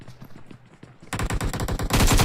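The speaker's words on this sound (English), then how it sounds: "Some shots back onto Daxwa" Gunfire in a competitive video game match: scattered shots first, then a loud sustained burst of rapid automatic fire growing denser toward the end.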